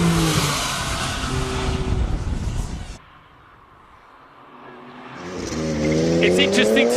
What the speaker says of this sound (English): taking on the track with the Porsche Turbo.